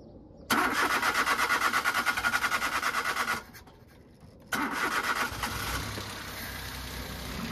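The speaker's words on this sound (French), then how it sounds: "Donc je démarre le véhicule et on essaye ça." A car engine cranks and catches, running with a rough pulsing idle for a few seconds, cuts out briefly, then restarts and settles into a steadier idle; the engine has an uneven-running fault being traced to an injector or ignition coil.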